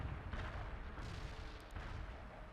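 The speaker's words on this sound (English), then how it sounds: "Heavy artillery barrage inbound." An artillery barrage in the video game World in Conflict rumbles as a dense, continuous roll of heavy blasts and low booms, loud and sustained without a break, no speech over it.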